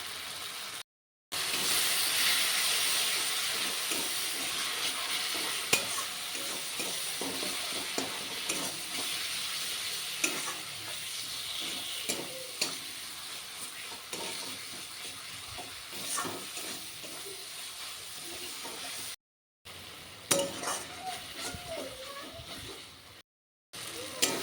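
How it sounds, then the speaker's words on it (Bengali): A spice paste of chili powder and turmeric fries in hot oil in a home kitchen, a steady close sizzle and hiss with occasional stirring scrapes, continuous and alone with a few brief breaks. "দেখুন মশলাটা ভালো করে কষিয়ে নিয়েছি, তেল ছেড়ে দিয়েছে।"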